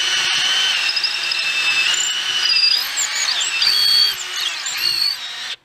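A power drill whines steadily as it bores a hole into wood held in a vise, the pitch wavering under load, close and continuous before cutting off at the end.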